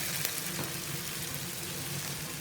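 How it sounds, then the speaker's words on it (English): Potatoes fry in a mix of butter and oil with a steady, dense sizzle and crackle that stays even and close throughout, with no talking. "I cook the potatoes in half butter, half oil"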